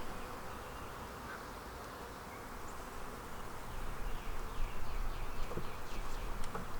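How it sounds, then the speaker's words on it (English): A newly emerged queen bee piping inside a beehive, faint high pulsed toots rising over a constant dense buzz of worker bees that grows louder toward the end. "I hear her piping."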